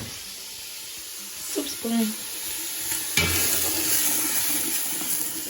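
Garlic and onion sizzling in a pot for chicken tortilla soup, a steady frying hiss with stirring scrapes, and a person briefly speaking over it.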